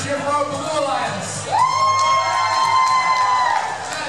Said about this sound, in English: Can I get a cheer for our Blue Alliance?